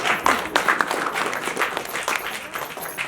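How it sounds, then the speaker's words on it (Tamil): An audience applauding at a stage event: a dense, steady patter of many hands clapping at moderate loudness that carries on for the whole stretch without a break. "தயவு செஞ்சு நீங்களே ஒரு தடவை கைத்தட்டுவீங்க"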